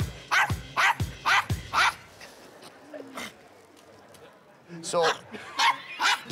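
A dog barks in sharp, loud bursts on a televised talent show audition stage, with a rapid series of barks at the start and again near the end, mixed with whimpers and yips while people talk nearby.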